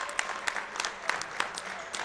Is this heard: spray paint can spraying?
no